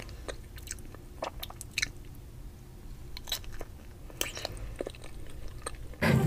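A yellow banana is bitten and chewed, with soft crunching and squishy mouth sounds in scattered bursts over a quiet background, with a louder sharp noise at the very end.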